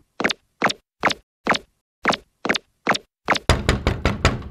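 Knuckles rap on a door in a slow, even series of eight loud, close knocks, followed by a rapid flurry of harder, faster pounding, with no talking.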